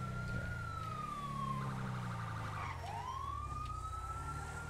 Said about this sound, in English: Alright, the ambulance is leaving.